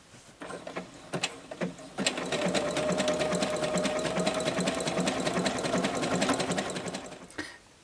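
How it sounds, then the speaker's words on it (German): A sewing machine running a stretch stitch on fabric from the middle toward the edge: a few starting clicks, then a loud, steady mechanical whirr for about five seconds before it stops, with no voices. "Von daher fange ich jetzt in der Mitte an und nähe bis hier runter."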